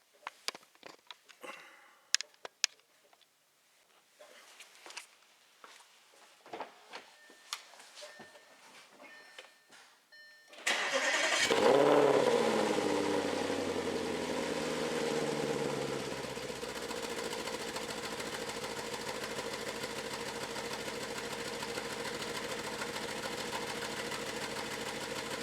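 A 2014 Audi RS5 4.2 V8 idles cold with cylinder 5 solenoids unplugged, starting after scattered handling clicks and then settling into a loud, steady, close rumble with a fine rhythmic ticking that carries on alone.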